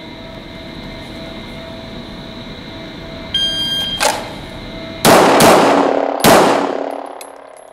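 Pistol shots are fired in a Mozambique drill (two to the body, one to the head) at 10 meters outdoors. A few loud, sharp cracks ring out close together with ringing decay, over steady background hum.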